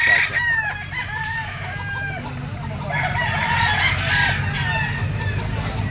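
A bull stag fighting cock crows repeatedly, loud and close, its calls overlapping with other roosters and clucking fowl around it.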